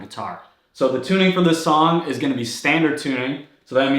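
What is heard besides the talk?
None of the usual background noises is heard.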